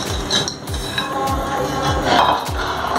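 A spoon clinks and scrapes against a pan as rasmalai mixture with dry fruits is stirred, each stroke giving a soft repeated thud and metallic ping in a steady rhythm, close by.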